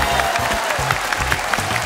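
Audience applause at a Vietnamese comedy game show as the judges are welcomed, a dense steady clatter of clapping with crowd noise and a low music bed underneath, no talk over it.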